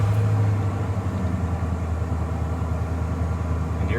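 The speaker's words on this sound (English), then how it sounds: "So then go ahead and start the vehicle." A 1994 Ford F150 engine idling steadily after a fuel filter replacement, a close, continuous low rumble with no talk.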